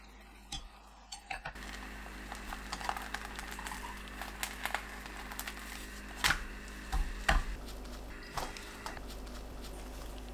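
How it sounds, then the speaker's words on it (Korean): A knife taps through a thin rolled egg omelette on a cutting board, giving a few sparse, light clicks spread out over quiet background with no talking. "계란을 돌돌 말아 채 썰어주세요"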